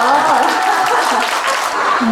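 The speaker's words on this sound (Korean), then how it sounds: "박수 한번 주세요" An audience at an outdoor market talk show in Pohang claps in a steady, dense wash of applause, with voices mixed in underneath.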